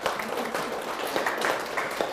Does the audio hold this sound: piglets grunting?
no